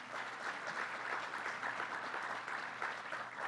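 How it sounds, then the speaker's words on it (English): An audience at a Penn Station main entrance design unveiling applauds three senators and an assemblyman. The clapping is steady and moderately distant, and it holds evenly throughout. "Let's give them a round of applause."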